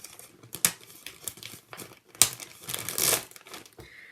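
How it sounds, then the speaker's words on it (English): A bag crumpled up close, giving irregular crackling and crinkling bursts that swell and fade over several seconds, with a louder rustling flurry toward the end and no voices. "excuse me for crumpling a bag"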